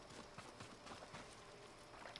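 Hooves of Kage, a horse in the Ghost of Tsushima video game, clop in a steady trotting rhythm, faint and close, over soft ambient background.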